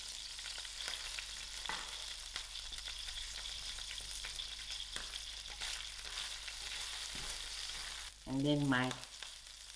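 Ginger and curry leaves frying in ghee in a pan, a steady crackling sizzle throughout with occasional louder pops, and a brief spoken phrase near the end.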